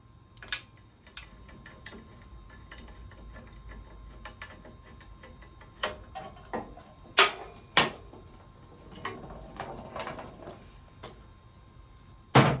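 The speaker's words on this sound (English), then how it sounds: "To take the foot pegs off, there's just 4 bolts underneath that use a 12 millimeter socket." Socket wrench work on the 12 mm foot peg bolts of a 1986 Honda CT110: sparse, uneven metallic clicks and clacks at close range, a few sharper louder knocks near the end, with no talking.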